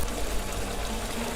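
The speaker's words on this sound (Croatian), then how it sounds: "Dosuću još malo vode." Water pours steadily into a cooking pot of simmering eggplant and bean stew with onion and tomato juice, a soft continuous trickle with no talk.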